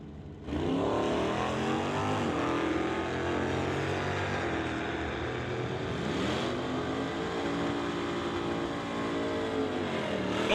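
Drag race cars, a Firebird and a 1984 Cutlass, launching side by side at a raceway, a loud sustained engine roar with rising revving tones that swell and shift as they accelerate away.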